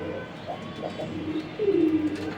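Racing pigeons in a loft give a few soft, low coos that swell into a louder, longer coo near the end, close by over a steady background hum.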